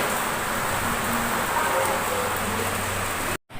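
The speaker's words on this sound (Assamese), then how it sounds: "এয়া বৰষুণ আহি গ'ল" Light rain beginning to fall outdoors, a soft steady patter under faint background hum and a few distant tones, cut off abruptly near the end.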